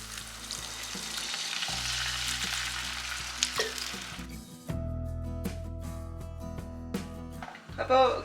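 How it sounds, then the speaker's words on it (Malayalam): Boiled water poured into a sizzling egg curry masala for mutta curry, a loud hiss of frying that cuts off sharply midway, followed by quieter simmering and scraping with tonal clinks and a brief bubbling flourish at the end. "അപ്പം നമുക്ക് ഇനി ഇതിലേക്ക് വെള്ളം ഒഴിച്ചു കൊടുക്കാം"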